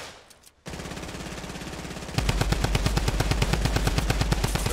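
Rapid automatic gunfire in the video game Fortnite, a steady loud burst of closely spaced shots that starts after a short quiet lead-in and grows heavier midway, with no talk over it.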